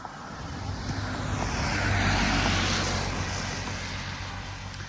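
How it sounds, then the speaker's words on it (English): Car tyres hiss on a wet road after rain, the swelling wash of a passing vehicle rising to a peak and fading, with wind and steady background traffic rumble. "because the road is wet you can also hear the cars more."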